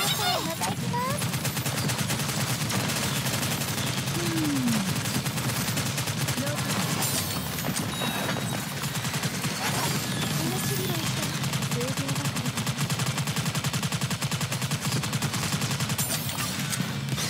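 Concentrated gunfire in the NIKKE game: rapid, unbroken bursts of automatic fire fill the whole stretch at a loud, even level, with character voices mixed in.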